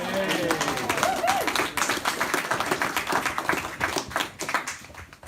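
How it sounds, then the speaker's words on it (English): Dense applause from an audience at a village coronation address, steady and fairly loud throughout, with a voice speaking over it near the start. "Could we give Andy a round of applause in his absence?"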